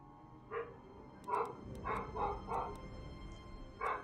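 Dogs bark in the Total War: Warhammer 2 video game, giving several sharp, moderately loud barks in an irregular series over low battle ambience.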